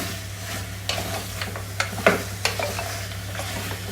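Mutton paya trotters being stirred into onion-ginger masala paste, with repeated scraping strokes and light sizzling close up, several sharper scrapes standing out over a constant low hum.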